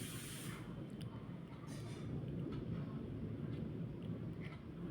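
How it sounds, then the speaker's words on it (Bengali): Pabda fish fries in hot oil in a Bengali mustard-style recipe, making a steady, close sizzling hiss throughout. "মাছটা বেশ সুন্দর করে লাল লাল করে ভেজে নিচ্ছি"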